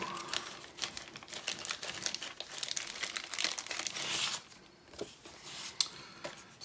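Plastic bag of a 1/48 Iliad Design Cessna L-19/O-1 Bird Dog decal sheet being opened and handled, busy close crinkling and rustling in quick irregular bursts that ease briefly before a final crackle, no talking.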